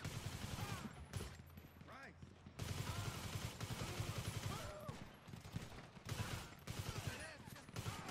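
Video game gunfire in GTA V comes as rapid bursts of shots in several runs, loud and busy, with players talking over it.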